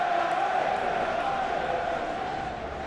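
Stadium crowd ambience from the Football Life 2026 video game, an Arsenal versus Bayern Munich Champions League night match: a steady, loud roar of many voices that holds constant throughout, with no clear speech.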